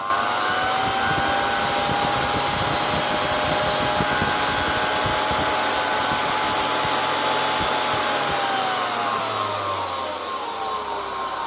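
A 1978 Zelmer type 95 vacuum cleaner's ZZSD type 84 motor whines loudly and steadily close by, then its pitch sinks as it spins down toward the end.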